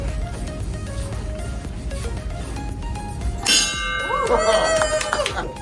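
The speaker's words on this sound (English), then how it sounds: "You have a chance to ring the bell." A bell struck by first graders at a school assembly rings out several times as bright metallic clangs and dings with ringing tails, heard over steady crowd and room noise.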